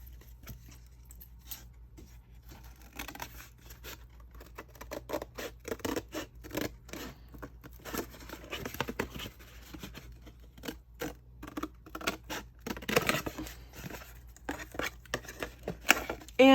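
Scissors cut material for a handmade junk journal, giving repeated close snips and scratchy rasps in irregular bursts that grow busier toward the end, quiet overall with no talk.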